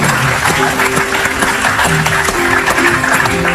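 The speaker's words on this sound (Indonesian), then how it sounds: "Tepuk tangan" A TV studio audience claps loudly and continuously, a dense close wash of applause with music playing underneath throughout the short stretch.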